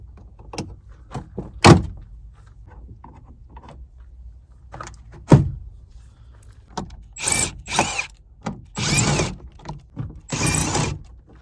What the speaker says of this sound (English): I'm gonna work on pulling this door panel off now and see if we can get to that window motor.